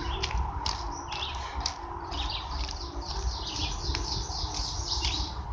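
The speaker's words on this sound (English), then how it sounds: "Now, birds are loud as all hell." Loud, busy bird chirping with many overlapping tweets and calls over a constant low rumble of background noise, from the game Five Nights at Freddy's 4.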